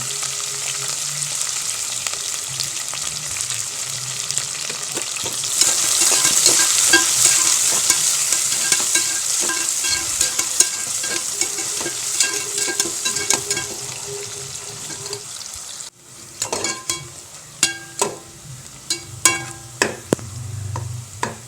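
Onion and green chili fry in a pan for kuska, with a steady sizzle and repeated scraping stir strokes; the frying hiss runs throughout, and sharper spoon clatters come toward the end.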